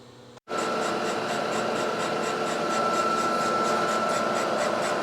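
A boring bar cuts the cylinder of a Suzuki TS185 motorcycle, taking it half a millimetre oversize. After a brief silent gap at the start comes a steady, continuous scraping machining hum with a faint high whine, held at an even level throughout.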